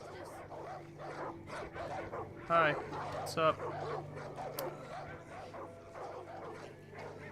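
Dog barks and yips from the video game Far Cry 5, a couple of sharp calls near the middle over a busy game soundscape, with someone talking throughout.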